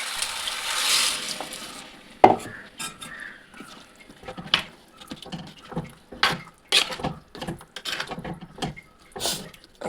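Water poured onto ground curry paste in a cooking pan sets off a busy, close bubbling and spattering, with irregular pops and scrapes continuing after a brief hissing start.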